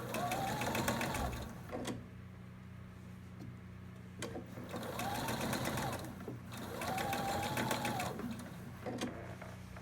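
A sewing machine stitching a quilt seam in three bursts of fast, whirring, ticking running, separated by short pauses, close and clear with no talk.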